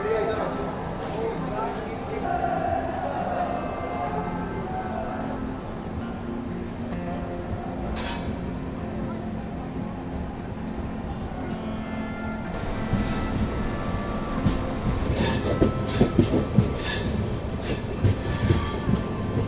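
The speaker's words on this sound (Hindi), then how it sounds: "खैर चलिए 4 मिनट का हॉल्ट था और अब हम डिपार्ट कर रहे हैं रिंगस जंक्शन से।" The Hisar Kota Express pulls out of Ringas Junction, heard from inside a 3rd AC economy coach: a low continuous rumble with brief wheel squeals, then louder rhythmic clattering over the rails and sharp metallic squeals toward the end.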